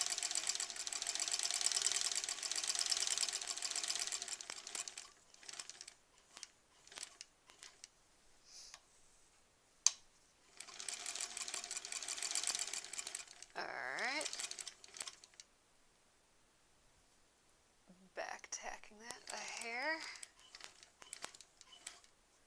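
Wool embroidery stitched on a sewing machine, a rapid mechanical whir running in several bursts separated by quiet pauses and light handling noises.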